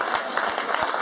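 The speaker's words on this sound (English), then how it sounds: "Give her a round of applause." A concert audience claps at a live Irish traditional music show in Mannheim, a dense steady patter of many hands with sharper individual claps standing out, sustained evenly throughout.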